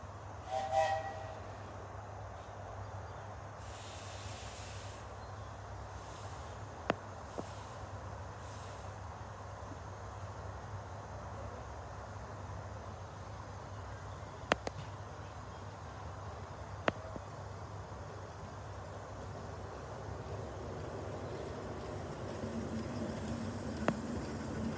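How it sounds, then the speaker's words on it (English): A miniature train on the Echills Wood Railway passes by outdoors, with a faint steady rumble under a constant low hum, a few sharp clanks and clicks scattered throughout, and the sound swelling slightly near the end. "Hopefully, should have a train come through."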